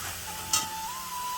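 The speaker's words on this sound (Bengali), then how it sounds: "ধনে গুঁড়ো জিরে গুঁড়ো লঙ্কা গুঁড়ো আর হলুদ গুঁড়ো দিয়ে আমি এবারে ভালো করে কিন্তু মশলাটা কষিয়ে নেবো" Ground coriander, cumin, chilli and turmeric frying in a pan, a soft steady sizzle with one brief clink of a utensil near the start and a faint tone running underneath.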